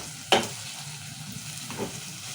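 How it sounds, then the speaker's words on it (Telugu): Chopped onions and tomatoes frying in a pan, making a soft steady sizzle with a sharp clatter of a spoon stirring early on and a lighter scrape later. "ఇప్పుడు ఉల్లిగడ్డ టమాటా మంచిగా వేగింది"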